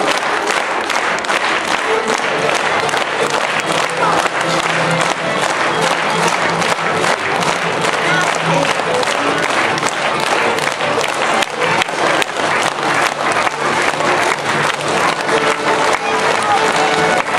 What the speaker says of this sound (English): I need you guys to start clapping. Come on, I need some clappers.